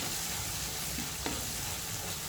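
Malai cream stirred into oil over a low flame while cooking a paneer and baby corn curry, giving a steady soft sizzle with one brief scrape of the spoon near the middle.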